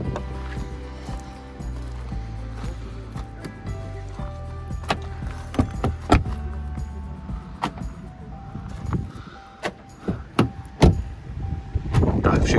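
Keyless central locking on a VW Passat B8 4x4 estate car: a series of clicks and thunks from the locks over an engine-like hum, with talking alongside.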